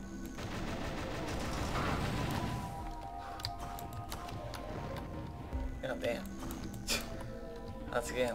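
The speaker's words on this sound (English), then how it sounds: "Explosions." A dense burst of rumbling blasts and rapid gunfire fills the first few seconds, then thins to scattered sharp pops and clicks.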